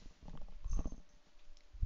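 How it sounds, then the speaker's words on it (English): A pet cat purrs close by in a quiet room, a soft low rumble rising and falling over about two seconds with no talking. "my kitty in my room was trying to go out my window"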